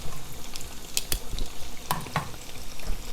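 Spiced fish pieces fry in a pan over low-medium heat, giving a steady close sizzle broken by a few sharp crackles and pops, with no talking.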